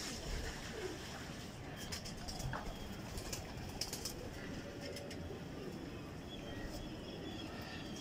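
Jadugar Teddy breed pigeons in a loft cage give faint, low cooing over a steady hiss of background noise, with a few light taps and rustles scattered through, distant and quiet.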